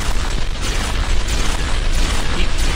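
Gunfire aimed at a Cazador in Fallout: New Vegas comes through as a dense, loud barrage of overlapping shots and mechanical clatter that continues without a break.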